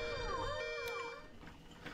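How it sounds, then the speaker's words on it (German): An alarm siren wails in the video game BioShock 2 Remastered, sweeping tones rising and falling over a low background hum and fading toward the end. "Es gibt hier nur eine Art Alarm."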